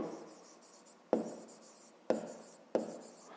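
Pen strokes scratch across paper as a digit is written by hand, three sharp marks spaced out with softer rubbing between, quiet and close.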